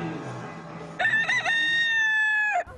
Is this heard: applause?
no